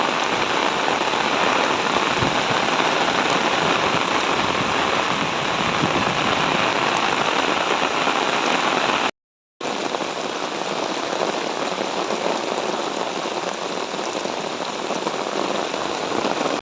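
Heavy rain pours steadily and loudly onto surfaces close by, a dense unbroken roar that fills the whole stretch apart from one brief cut, with no voices over it.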